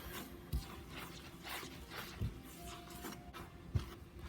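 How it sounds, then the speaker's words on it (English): A spoon scrapes and rubs through self-rising flour and white sugar in a large mixing bowl for pancake batter, soft repeated swishing strokes with a few light knocks against the bowl, close and quiet with no talk. "And give it a quick stir."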